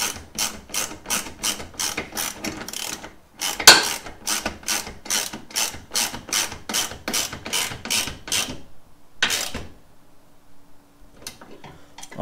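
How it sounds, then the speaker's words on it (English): A ratchet with a 13 mm socket tightens bolts on a 4Runner winch bumper, producing a long run of rhythmic, close clicking strokes in bursts with a brief pause, then a final short burst before quiet. "I'm just using 13 millimeter wrench and a 13 millimeter socket. And then I'll start tightening."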